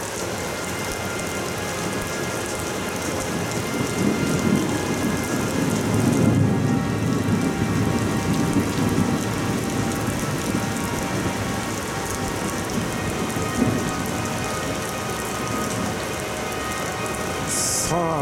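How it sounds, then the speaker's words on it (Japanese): Heavy mountain rain pours steadily at Okutama during a thunderstorm, a loud continuous hiss with low rolling thunder swelling in the middle, heard from under a shelter. "撤収して帰ろうと思ったら雷雨になっちゃいました。"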